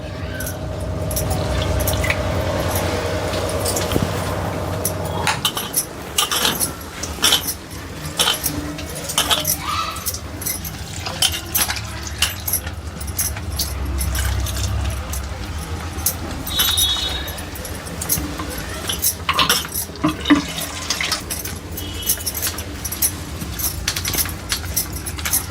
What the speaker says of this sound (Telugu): అంత పిండిని ఇట్లా కలుపుకోవాలండి మనం మంచిగా